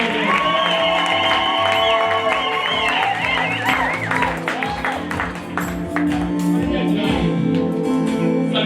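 A church congregation claps and cheers continuously, with dense applause and shouting blended with loud music and voices throughout.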